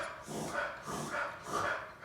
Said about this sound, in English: That's a dog over there